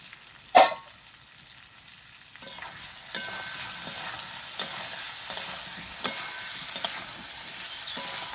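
Cauliflower and potatoes fry in a pan, a loud clank of the lid or spoon opening the sequence, then a steady sizzle punctuated by regular scraping and clinking strokes of stirring.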